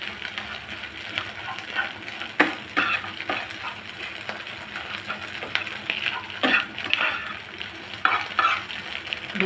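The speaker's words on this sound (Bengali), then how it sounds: "ঠিক এইভাবে ঝুড়া ঝুড়া করে ভেজে নেবেন।" Egg scrambled in a pan with a pinch of salt, frying with a steady sizzle while a utensil stirs and scrapes, giving irregular clicks and scuffs throughout; close and moderately loud, no talking.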